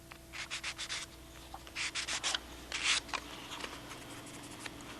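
Hand sanding of filler-coated tissue covering on a model Spitfire: three short bursts of quick back-and-forth scratchy strokes, fairly faint and close, over a low steady background hum.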